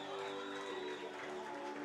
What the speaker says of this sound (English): Doane fans who made the trip to Bellevue applauding their team as they head back to the dugout.